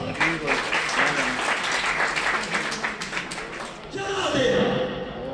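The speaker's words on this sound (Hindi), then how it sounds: "भरपूर तालियां बजाएं जनाब ज़हूर अवान साहब" Audience applause at a Pakistani Labour Day ceremony, a dense sustained patter of clapping that swells again near the end, mixed with someone speaking over a PA.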